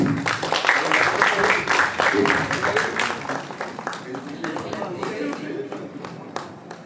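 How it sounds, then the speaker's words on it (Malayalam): An audience at a film success press meet for Anweshippin Kandethum claps in a dense, continuous round of applause that gradually thins out, with people talking over it. "ഒരു കൈയടി, റൗണ്ട് ഓഫ് അപ്ലോസ് പ്ലീസ്."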